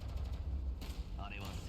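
Dense gunfire in the video game Girls' Frontline 2, a steady low rumble of shots layered with other battle noise, a brief higher tone rising near the end, loud and continuous throughout.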